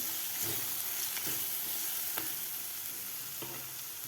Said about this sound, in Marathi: हळद व्यवस्थित मिक्स करून घ्यायचे आहे